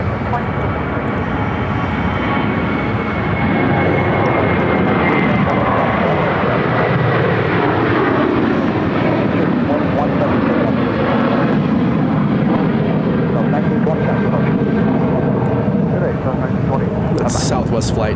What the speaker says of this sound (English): That's Southwest Flight 1920 headed to San Jose del Cabo on a 737-700